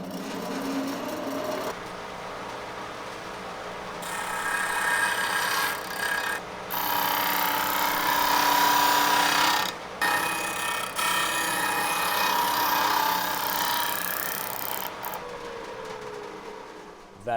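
A woodworking machine with a metal disc sander runs with a steady motor whine. The motor spins up, holds, and stops and restarts a few times, with short gaps between runs.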